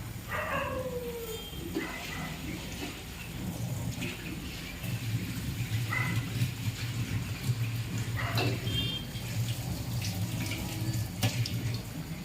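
Water runs from a tap into a basin while a sweet, sour and spicy pickle is being made, a steady splashing stream with a few brief faint barks in the background.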